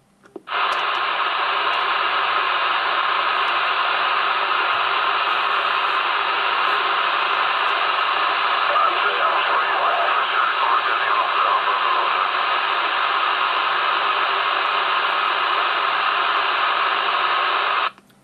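Steady, even static hiss from a CB radio receiver during an emergency communications test in Warsaw, filling the whole stretch with no change and no voice coming through.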